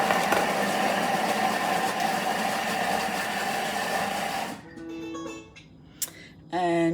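A kitchen food processor runs steadily at speed 5 for a few seconds with a loud, even whir, then cuts out, leaving faint clicks and brief bumps in the quiet.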